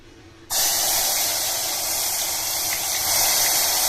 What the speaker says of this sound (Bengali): এর উপর আমি দেব হচ্ছে পেঁয়াজ আর টমেটোর পেস্টটা।